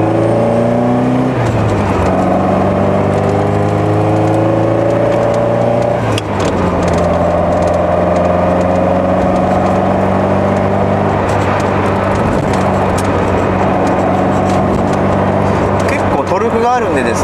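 A Ferrari 308 GTS engine runs at a steady, loud, close idle with a rising pitch early on, droning continuously while someone talks over it.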